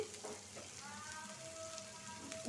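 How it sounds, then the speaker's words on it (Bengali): Onions fry until reddish-brown in a pan, a close, steady sizzle with occasional stirring running alone for the whole moment. "পেঁয়াজটা একদম লাল করে ভাইজা নিছি"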